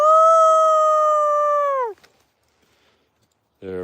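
A person howls to call gray wolves, a long sustained rising-then-falling wail that cuts off abruptly, followed by silence and a brief second howl starting at the end; the voice imitates a wolf howl.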